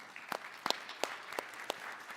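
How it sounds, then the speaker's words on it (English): Sparse, faint handclaps come from a small audience at a medical panel on biliary tract cancer, about half a dozen separate claps spread over a couple of seconds. "Well, great applause for Dr. Goyal."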